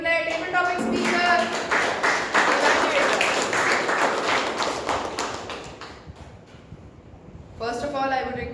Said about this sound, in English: Huge round of applause for each and every role player